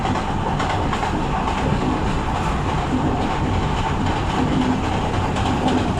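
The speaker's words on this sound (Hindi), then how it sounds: "ओवरटेक कर रही है अपनी ट्रेन।" The Gitanjali Express rolls steadily alongside while overtaking on the Nagpur to Santragachi line, giving a continuous loud rumble with faint clickety-clack from wheels on rail joints and no voices.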